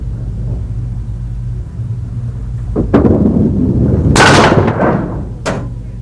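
Bowling ball crashing into pins on a pin deck in a televised pins game, a loud booming rumble with two sharp clattering impacts as pins scatter, amid arena ambience.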